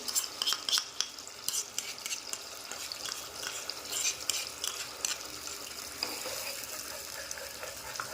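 Momo chutney puree being stirred in a frying pan, with a soft wet sizzle beneath continuous scraping and stirring strokes and occasional utensil clinks, quiet and close, with no talking.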